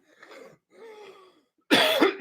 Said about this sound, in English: I got a bit of a cough today.